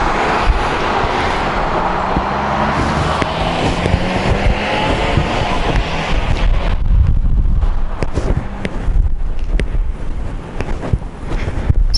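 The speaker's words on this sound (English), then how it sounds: "At least not while I'm hearing cars coming." Cars on an outdoor road approaching and passing, a loud, steady roar of engine and tyre noise mixed with heavy wind buffeting on the microphone, swelling and rumbling across the whole stretch.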